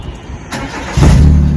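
A Fiat Punto Mk2.5 engine cranks and fires up, the near, loud start jumping into a steady idle after a short lead-in of lighter mechanical noise.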